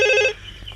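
A telephone rings in a movie scene, a short loud electronic trill lasting about a third of a second before cutting off, followed by quiet background.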